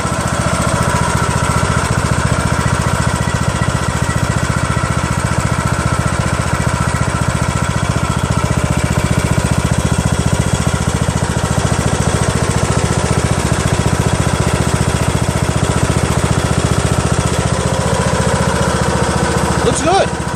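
A Craftsman LT2000 lawn tractor with a 19.5 HP engine idles steadily and loudly up close for the whole stretch, a smooth constant drone with no breaks.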